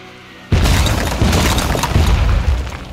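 Artillery fire and car explosions in the video game Jagged Alliance 3: a sudden loud boom after a short quiet opening, then sustained roaring blasts and crackling debris with repeated heavy impacts.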